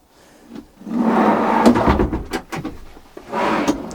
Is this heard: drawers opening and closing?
yes